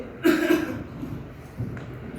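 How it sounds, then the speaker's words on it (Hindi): Two quick, sharp coughs close to the listener, followed by faint background sounds and a softer bump of noise. "3-4 महीने हुए, खांसी बहुत है।"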